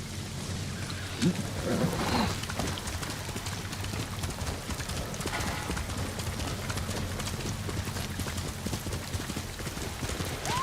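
Horse hooves clip-clop steadily during riding in the video game Ghost of Tsushima, a quiet rhythmic patter under a constant low ambient bed.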